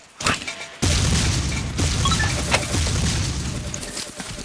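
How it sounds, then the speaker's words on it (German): Grenade blast in the blocky shooter Ace of Spades: a sharp loud boom after a short lull, followed by a rumbling, crackling tail with scattered impacts fading over a few seconds. "jetzt kriegt er eine Granate"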